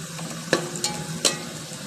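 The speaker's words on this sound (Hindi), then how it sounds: "हम इसको थोड़ी देर और फ्राई करेंगे ताकि अच्छे से ये गोल्डन कलर आ जाए हमारे पास" Onions frying in a pan for chicken qorma, a continuous close sizzle broken by three sharp clatters of stirring, with no voices.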